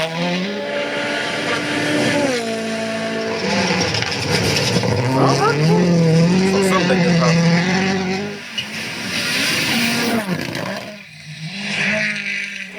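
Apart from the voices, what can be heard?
rally cars revving engines and racing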